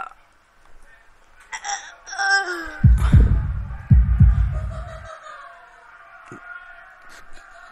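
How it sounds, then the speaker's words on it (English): In the Katawa Shoujo video game, a heartbeat sound effect thumps in a run of low, heavy beats near the middle of the clip, set against soft tonal background sounds. "I can, like, hear the heartbeat."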